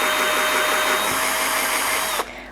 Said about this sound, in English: I'm just gonna drill a little pilot hole at that sort of angle